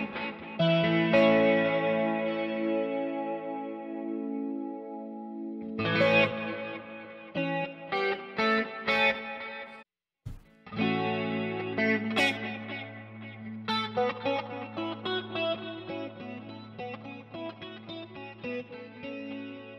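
Electric guitar chords and single notes through a modulation effect pedal ring out with a wavering, swirling modulation and slight distortion, played alone in bursts with brief pauses between phrases.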